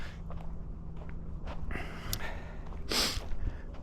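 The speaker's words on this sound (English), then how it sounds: "And excuse the sniffles." A few close, breathy sniffles and snorts from a person walking an outdoor spring trail amid pollen and dust, brief nasal bursts over quiet outdoor background and shuffling steps.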